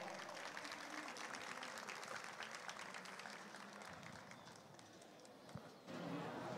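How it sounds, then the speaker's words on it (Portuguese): Faint, distant audience applause for Dr. Vinícius Rezende at a panel event, a soft continuous patter of clapping that dips slightly before picking up again. "Uma salva de palmas para o Dr. Vinícius Rezende"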